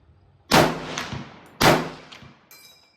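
An H&R CMP M1 Garand rifle fires two sharp, loud shots about a second apart at an outdoor range, each crack trailing off in a rolling echo, followed by a fainter metallic clink.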